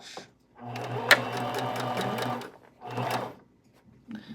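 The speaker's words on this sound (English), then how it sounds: "Back stitch." A home sewing machine runs a back stitch in two bursts of steady mechanical whirring, with short pauses between them and a brief final run. The sound is close and moderately loud, with no talking.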